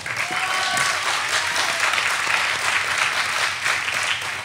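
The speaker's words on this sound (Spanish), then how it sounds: "Un aplauso, por favor." Steady, dense applause from a seated audience at a talk on Python, sustained at even loudness throughout with faint voices mixed underneath.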